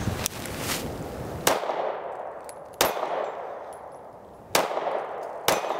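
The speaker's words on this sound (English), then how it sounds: "I'm gonna pull from that position, take a few shots, run a couple mags through it" Shots from a Ruger LC9s pistol crack out one at a time, four or five loud sharp reports at uneven intervals, each ringing briefly with a metallic tail outdoors.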